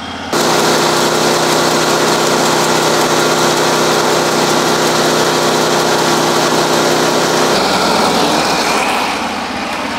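A milling machine cuts a wedge with a steady, loud whine and grinding drone that holds constant for most of the span, then shifts and thins as the cut ends.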